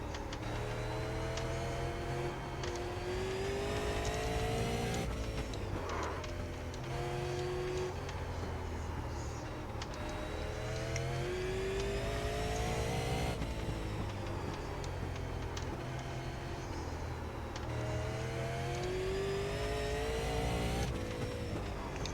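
Race car engine in a racing video game, pushed hard on the throttle while running laps. The drone is continuous and fairly loud, its pitch climbing in repeated sweeps as the car accelerates and shifts.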